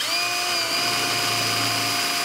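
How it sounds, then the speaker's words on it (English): A power drill runs continuously at high speed, drilling a hole in a bucket, a loud steady whine with a constant pitch and no pauses. "Here we go with the drilling of the hole."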